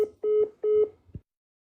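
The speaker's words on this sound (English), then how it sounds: "Oh, they hung up the phone." A telephone call ends with two short, clear electronic beeps followed by a soft click, then silence.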